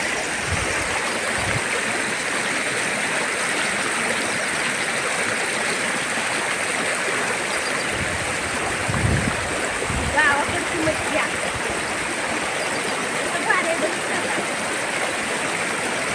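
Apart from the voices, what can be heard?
washing clothes in flowing stream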